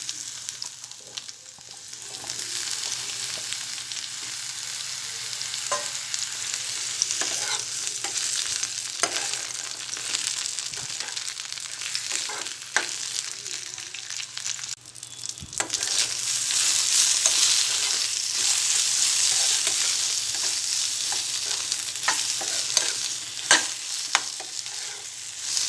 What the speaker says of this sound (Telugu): ఆయిల్ వేడైన తర్వాత వంకాయ ముక్కలు ఫ్రై చేసుకోవాలి.